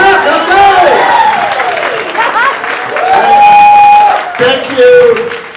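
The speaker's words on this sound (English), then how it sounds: "Round of applause, everybody. Give it up." Crowd at a live podcast show in New York City applauding and cheering, loud and close, with whoops and a voice speaking over the noise.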